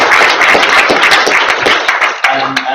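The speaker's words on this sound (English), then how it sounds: "For this, a big round of applause for her." A round of applause from an audience at an arts event, loud, close clapping with distinct hand claps audible within the dense burst, ending with a couple of separate claps and a brief tonal sound.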